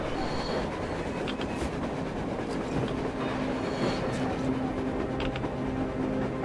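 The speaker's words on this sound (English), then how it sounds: "A train! A damn train on the surface!" A train rolls along on the surface in the game Metro Exodus, with a continuous rumble, rhythmic wheel clatter and faint metallic squeals, fairly close and steady with no talk over it.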